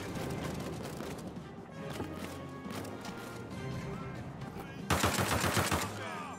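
An MP40 submachine gun firing in the WWII game Land of War, set during the 1939 invasion of Poland, with sustained rapid battle gunfire and a loud, close automatic burst near the end.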